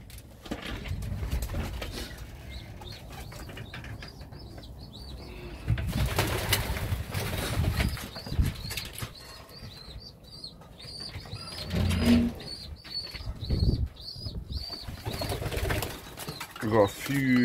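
Homing pigeons, including young Viking, blue bar and checker birds, coo repeatedly through the loft with bursts of wing flapping and rustling, fairly close and steady throughout.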